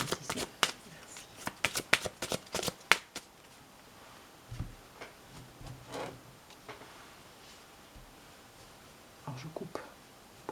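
Tarot cards are shuffled and cut by hand: a quick burst of crisp, close riffling and snapping for the first three seconds, then softer scattered card handling and faint rustles in a quiet room.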